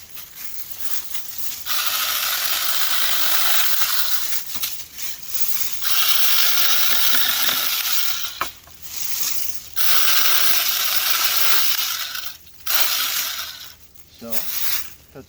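A small SEYVUM 5-inch battery mini chainsaw cuts a hanging branch into pieces: loud, steady buzzing cuts in several bursts with brief pauses between them, close to the microphone.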